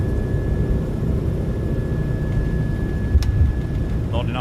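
A Boeing 737-700 climbs after takeoff in a flight simulator game, a steady, loud, close engine roar with a thin constant tone above it, while voices talk over the engine noise.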